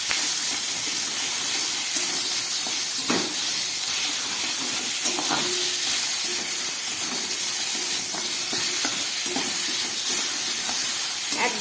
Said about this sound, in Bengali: একদম গ্যাসটা কম করে এটাকে কিছুক্ষণ ভেজে নিতে হবে।